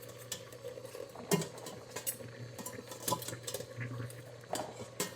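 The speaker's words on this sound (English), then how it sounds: "Now I'm just gonna lower some eggs right onto the steamer." Eggs lowered one by one with a metal spoon onto a steamer over boiling water, several light clinks and taps over a steady bubbling hiss.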